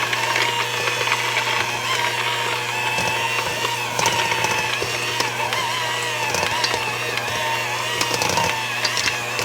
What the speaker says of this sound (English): I'm going to use my hand mixer again, and I'm going to blend this up just till it's softened